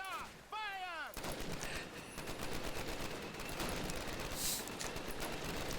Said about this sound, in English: Machine guns ready! There they are! Fire!